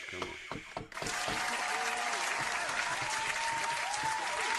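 Audience hand clapping and cheering greets the Woman of the Year as she is introduced. It starts abruptly after a brief spoken line and then holds as steady, loud, dense clapping for the rest of the clip.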